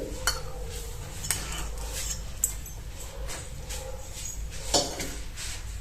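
A utensil stirs pearl millet as it dry-roasts in a hot pan, giving soft scraping with sharp metallic clinks at irregular intervals, close and fairly quiet.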